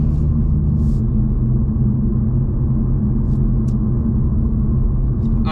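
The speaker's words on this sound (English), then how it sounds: "I heard the exhaust valve close" A 2020 Toyota Supra's straight-six exhaust in normal drive mode with the exhaust valve closed, a steady low rumble that stays fairly quiet and even, with no talk.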